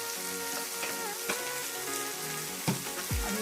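Eggplant gravy with salt sautés in a pan, giving a soft, steady sizzle with scattered light pops and a stir or two, under faint background music.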